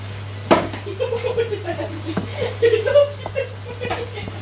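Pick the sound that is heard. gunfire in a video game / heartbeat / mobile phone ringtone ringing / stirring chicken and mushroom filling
stirring chicken and mushroom filling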